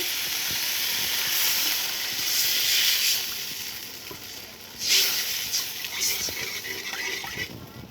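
Water poured into hot spiced oil for a hilsa fish curry with teasel gourd sends up a loud, close sizzling hiss that swells and fades in bursts, with brief sharper flares of spitting.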